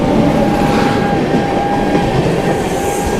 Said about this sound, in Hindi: सामने से कोई ट्रेन आ रही है वैप-7 लोकोमोटिव के साथ कानपुर के लिए।